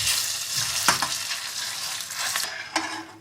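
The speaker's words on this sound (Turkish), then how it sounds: "Evet salçamızı Şöyle bir dakika kadar kavuralım." Tomato paste and pepper paste sauté in oil in a pan, giving a close, steady sizzle broken by a few scraping stirs of a utensil. No one speaks.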